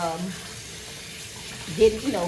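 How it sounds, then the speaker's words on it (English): Basmati rice being rinsed under a running tap, a low steady trickle of water with a brief louder splash near the end. "I'm using basmati rice today. So I'm gonna keep on rinsing this"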